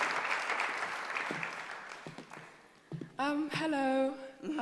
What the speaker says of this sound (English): Ladies and gentlemen, the daughters, give them a big round of applause